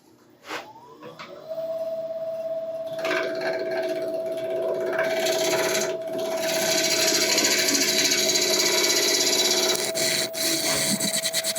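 A steady scraping, rasping tool cut against a black locust burl bowl spinning on a woodturning lathe, with a sustained whine, continuous and fairly loud after a brief start-up.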